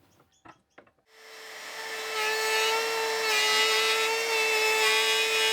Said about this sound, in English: this involves routing a recess in the legs and also routing a matching recess in the side of the seat assembly